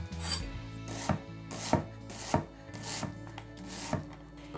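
Knife chopping onion on a board for sweet and sour bread and butter pickles, steady rhythmic thuds about every half second, close and clear with no talk.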